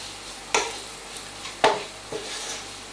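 Spices for chicken korma are stirred in a heating pan: three or four distinct scraping strokes of a utensil over a faint, low sizzle.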